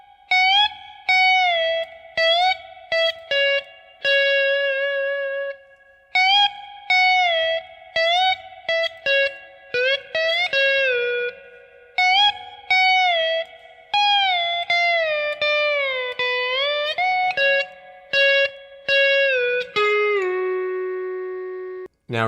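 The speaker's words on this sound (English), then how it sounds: "We put that all together in the intro guitar 1 with the slide sounds like this." The slide guitar intro lick, played alone as a series of clean gliding notes that bend up and down between short gaps, close and clear.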